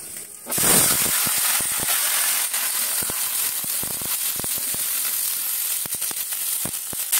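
Vegetables drop into hot oil with bay leaves, dried chilli and panch phoron, bursting into a loud, continuous close sizzle with scattered spatula scrapes and clicks throughout, no talk.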